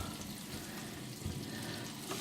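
Chicken pieces fry in a pan of bubbling oil, giving a steady, dense sizzle and crackle that holds at an even level throughout, with no voices.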